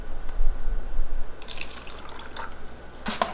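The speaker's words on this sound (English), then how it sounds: "pour some water down over the roots" Water is poured from a container over the dry roots of potted plants, giving short uneven pouring bursts that end in a brief splash, close by and without speech.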